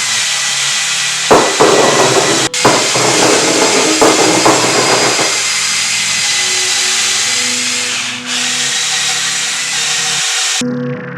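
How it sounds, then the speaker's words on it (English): A loud drill-mounted brush whirs and scrubs against a tub, with bursts of rough scraping early on before settling into a steady hum. "this tool that attaches to your drill and just scrubs the ish out of your tub or your shower"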